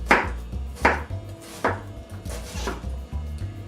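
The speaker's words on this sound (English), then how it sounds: "So I'll just start chopping." Steady knife chopping through crisp cabbage on a cutting board, about five firm, evenly spaced strokes, close up with no talking.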